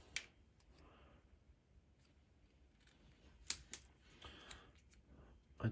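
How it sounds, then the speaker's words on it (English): Scissors cut designer series paper in a quiet room, with faint, soft snips and a few louder clicks of the blades, close by. "Not using my fabric scissors, I should say. And then just giving that a chop down."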